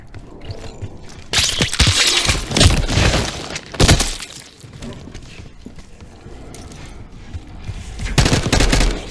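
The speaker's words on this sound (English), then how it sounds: "You hearing gunfire?" Bursts of gunfire in the video game Call of Duty: Black Ops 6 crackle and pop in rapid, uneven volleys amid noisy clatter, loud and close, with some voices mixed in.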